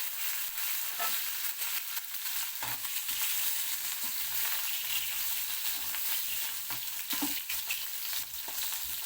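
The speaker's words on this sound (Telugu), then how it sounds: "కొంచెం నూనె పోసేసి జస్ట్ కొంచెం వంకాయలు ఏవైతే ఉన్నాయో వాటిని వేసేసి" Eggplant pieces fry in a little oil in a pan for a Telugu ulavacharu dish, giving a close, steady crackling sizzle throughout with occasional soft stirring knocks and no talking.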